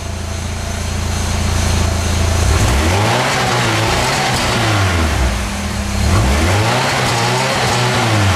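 A 1998 Pontiac Sunfire's exhaust, revved repeatedly against a low rev limiter, the engine note climbing and falling in loud rising sweeps over a steady idle, close to the tailpipe.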